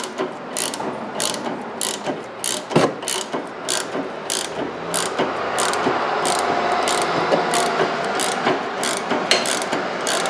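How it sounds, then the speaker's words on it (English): A hand ratchet turns a rusty sway bar link nut on a 2006-2011 Toyota Camry, giving bursts of sharp, rapid metallic clicking. It sounds close, with short pauses and one heavier clunk between strokes. "just hold the hold the ratchet and use the wrench to get it off"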